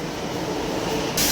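A Delhi metro train arrives at a station with a brief, close, steady rumbling roll that swells slightly at the end.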